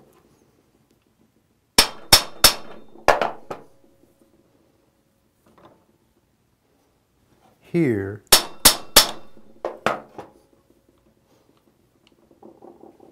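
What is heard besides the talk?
hammer tapping bushing in transmission planetary carrier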